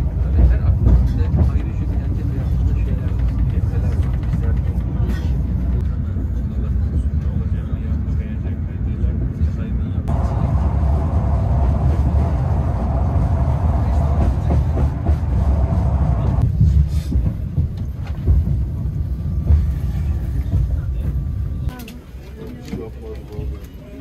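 A train interior in Uzbekistan, heading toward Bukhara, with a constant low rumble and rattle of the carriage rolling along the rails for the whole stretch, easing slightly near the end.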